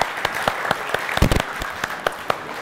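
A small audience at a youth conference talk on self-care claps in a loose, uneven patter that swells briefly in the middle, then thins into scattered claps.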